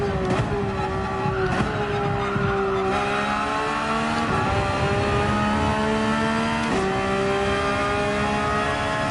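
Porsche 911 GT3 tires sliding and squealing in Gran Turismo 7, a sustained screech over a steady, loud engine drone with gear-change shifts throughout.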